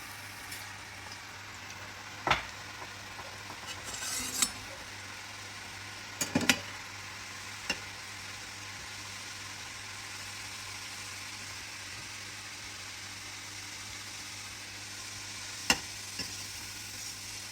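Continuous soft sizzling of dough frying in hot oil for Deepavali snacks such as thenkuzhal and ribbon pakoda, with occasional sharp pops and crackles breaking through the steady hiss.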